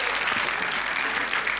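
Dense audience applause for Chino in a 2001 Israeli TV comedy sketch, a steady wash of many hands clapping at full strength throughout, with no talk over it.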